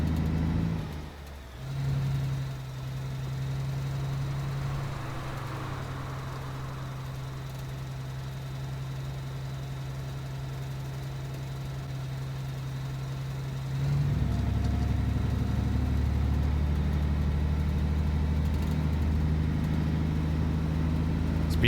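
A truck engine in the Alaskan Road Truckers driving game, played with a Logitech G29 wheel, drones steadily while driving straight, then rises to a louder, deeper rumble partway through, with no talking.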